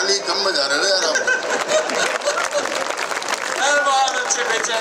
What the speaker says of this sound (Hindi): ताली कम बजा रहे हो यार आप।